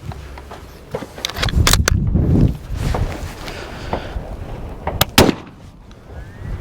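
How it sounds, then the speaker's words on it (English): A Lorcin .380 pistol fires an 8mm Mauser cartridge in a delayed hang fire, producing a couple of sharp, loud cracks a few seconds apart over a rough outdoor background. "So that was a hang fire. I don't know if you heard that delay."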